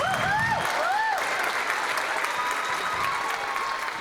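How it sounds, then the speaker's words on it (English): Contest audience applauding as a woman is called out, steady clapping throughout with a few whoops and cheers rising over it in the opening second. "Let's give her a round of applause."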